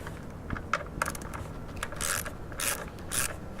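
An 8mm nut driver loosens the four bolts holding a throttle body during a cold air intake install, giving a series of close, short ratcheting clicks and metallic tool bursts with no talking.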